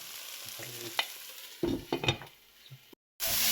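Green jackfruit curry being sautéed in a pan: quiet sizzling under a few close spatula scrapes and stirs, then a brief total silence before the sizzle returns.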